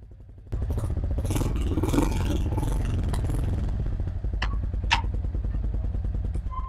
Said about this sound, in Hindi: अब इसका मैं रेव करके आपको सुनाऊंगा